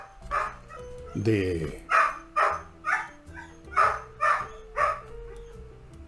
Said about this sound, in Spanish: Sí, así son mis perros.